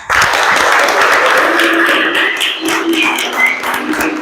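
Students in a classroom clap together at the close of a lesson, a sustained, dense patter of many hands that holds steady for several seconds before thinning slightly, near and lively.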